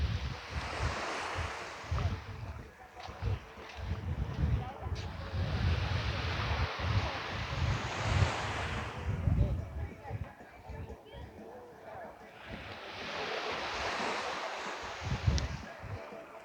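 Surf and wind on a beach near Coco Beach in Guanacaste, Costa Rica: waves wash in and out in broad swells over steady wind buffeting the microphone, loud and close, with a voice talking briefly.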